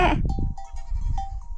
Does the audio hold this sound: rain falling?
no